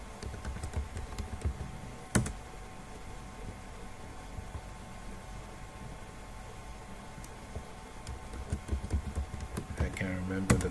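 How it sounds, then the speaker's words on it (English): Typing a password on a computer keyboard, with faint, scattered key clicks and a few sharper taps over a low steady background hum, some talking mixed in. "let me type in my password here"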